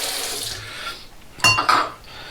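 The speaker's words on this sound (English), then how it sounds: "Let's get this water out of here" Water gurgles and drains from a bathroom sink while shaving, with a running swish that breaks into two sharp splashy bursts near the end.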